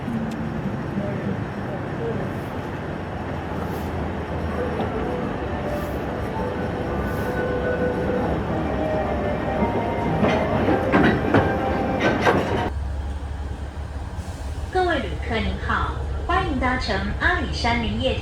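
Alishan Forest Railway train running through forest toward Alishan Station, a steady rolling rumble with rail clatter and squeal throughout, people talking over it and an onboard announcement near the end.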